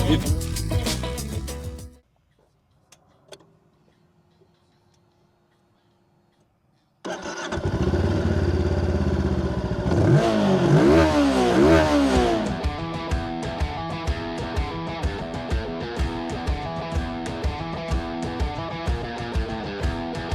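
After a quiet pause, a Voge 525DSX twin-cylinder adventure motorcycle engine starts, revs sharply a few times, then settles into a steady, throbbing idle.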